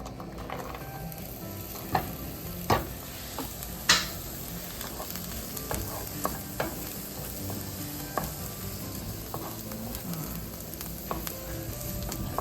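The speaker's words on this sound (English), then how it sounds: "We're going to melt that in our pan. We're gonna add our onion in." Onions fry in melted butter in a pan with a steady, close sizzle, punctuated by occasional sharp clicks and scrapes of stirring.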